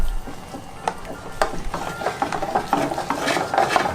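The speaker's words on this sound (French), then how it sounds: "On va laisser réduire, on va laisser mijoter." White wine cream sauce with wasabi bubbles and reduces in a pan, a soft close mix of small pops, sizzle and occasional scraping that continues without talk.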